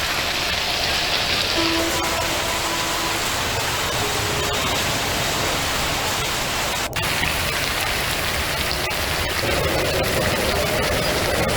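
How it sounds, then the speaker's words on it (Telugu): Heavy rain pouring down on a street in Hyderabad, a dense, loud and continuous roar of falling water with faint traffic underneath and no voices. "హైదరాబాద్లో వర్షం దంచి కొడుతోంది దాదాపు గంట నుంచి కూడా ఏకదాటిగా వర్షం కురుస్తూ ఉంది"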